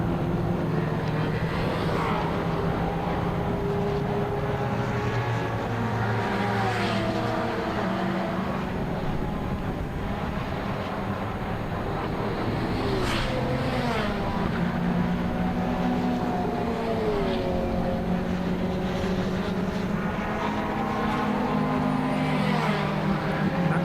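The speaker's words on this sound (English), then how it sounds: "Chris Murphy's Aston Martin is indeed a brand new car. There it is, just heading over the line now." A brand-new Aston Martin race car crosses the line during qualifying at Silverstone, its engine a steady, sustained drone with rising and falling pitch sweeps as it passes, heard from a distance.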